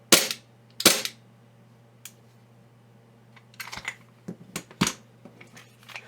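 Airsoft gas blowback pistol shots comparing a WE G19 and an EMG Tier One Utility Compact: two loud sharp cracks, then a single fainter snap and a quick uneven run of snappy shots, close and without talk.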